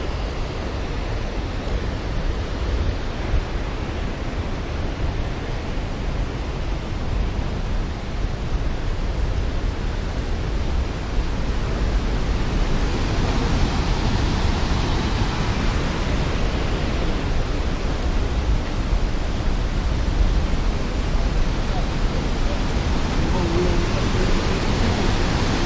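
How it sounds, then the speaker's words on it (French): Waterfall cascading in Yosemite park, a steady, loud broadband roar of falling water that holds constant throughout with no break. "Et une autre cascade juste là-bas."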